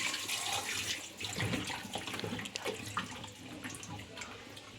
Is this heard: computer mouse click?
no